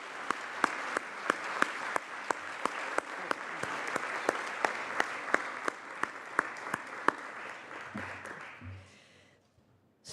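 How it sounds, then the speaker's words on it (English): Sustained applause in a legislative chamber for young artists, many hands clapping with sharp rhythmic claps standing out, tapering off and fading into quiet near the end. "A big round of applause for these young artists"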